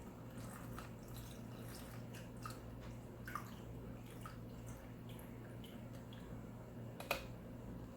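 Breast milk poured from a container into a plastic storage bag, a faint close trickle with a few soft drips and small taps against a quiet background hiss, no talking.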